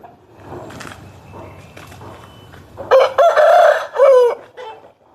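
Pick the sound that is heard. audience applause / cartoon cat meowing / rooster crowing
rooster crowing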